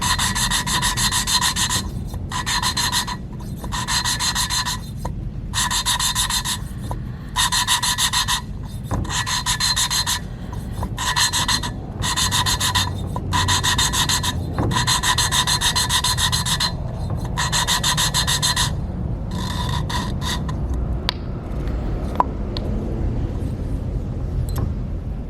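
A suction cup lapper stick rubs back and forth against a valve seat in a KTM 350 EXC cylinder head, producing a steady rhythmic gritty scraping that continues for about twenty seconds before trailing off into quieter handling noises.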